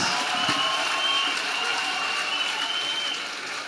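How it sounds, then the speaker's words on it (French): A congregation claps steadily and loudly throughout, a dense wash of many hands with a faint murmur of voices underneath. "Clap offering to Jesus."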